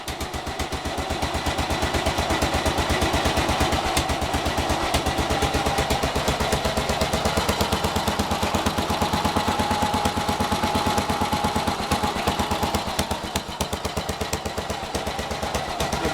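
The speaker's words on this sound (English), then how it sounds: "And now she's running, and that's how you start up a Ransomes from cold." A Ransomes MG40 crawler's engine runs steadily just after a cold start, a fast, even stream of loud chuffing firing beats close up that holds for the whole stretch with no pauses.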